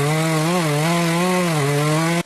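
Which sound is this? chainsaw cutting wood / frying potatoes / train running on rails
chainsaw cutting wood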